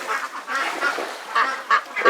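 Belgian and Campbell ducks on a farm pond in Bangladesh quack repeatedly, several close, nasal honking calls overlapping in quick, uneven bursts.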